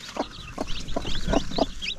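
A chicken clucks in a steady series of short, repeated calls over a busy background of outdoor noise, with faint bird chirps mixed in.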